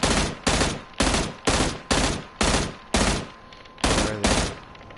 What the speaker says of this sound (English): We need to check out all these gunshots.